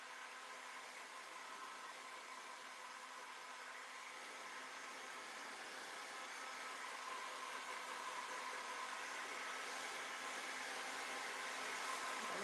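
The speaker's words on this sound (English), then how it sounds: "I'm going to enhance that with the heat gun" A heat gun blows steadily while drying chalk paint on a wooden shoe cabinet, giving a continuous airy whoosh that holds even and close and grows slightly louder toward the end.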